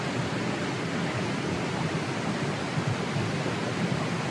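Flowing water at Galaboda Waterfall in Sri Lanka, a steady broadband rush that stays constant and fairly loud throughout, with no voices.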